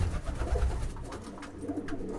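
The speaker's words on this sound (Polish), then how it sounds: "O, o jest fajny gołąb" A pigeon's low, throaty cooing, close by and repeated, over soft background rumble.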